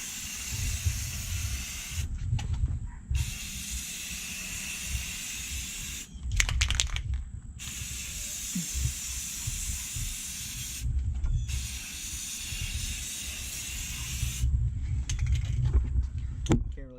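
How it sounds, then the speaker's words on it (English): Rust-Oleum crystal clear enamel spray can hissing in four bursts of a few seconds each, with short pauses and can rattling between them, over a low background rumble. "I'm using some Rust-Oleum crystal clear enamel. Just gonna do kind of a light coat first and kind of stay back from it a little bit."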